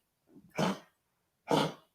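A poodle coughs twice, two short harsh hacking bursts about a second apart, close by, with a small wheezy lead-in before the first.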